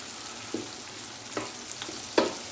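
Onions, peppers, garlic, chilli and spices fry in a pan with a soft, steady sizzle, broken by a few brief louder crackles and spits, close by with no talking.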